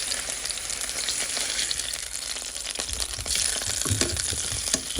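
Stuffed chicken frying in a pan after being flipped, a steady close sizzle and crackle with occasional spatula movement, loud and continuous without talk.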